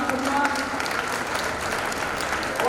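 An audience applauds a family at a welcome gathering in Kishangarh: steady, full clapping from a crowd, dense and continuous throughout, fairly close and loud.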